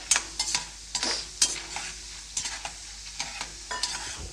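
Roasted gram fries in a pan for avalakki mixture, a soft steady sizzle broken by repeated close scrapes and rattles of stirring at an irregular rhythm.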